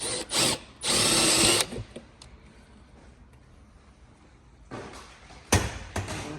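A power drill with a bit clearing rivet debris from a Maverick X3 lower door panel, two loud whirring bursts at the start, a quiet gap, then shorter whines and clicks near the end.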